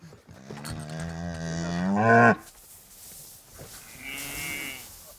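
A farm herd of cattle lows nearby: one long, loud, rising moo fills the first two seconds, then a fainter second call follows from further off, with no talking.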